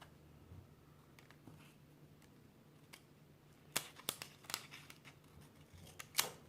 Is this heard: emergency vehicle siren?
no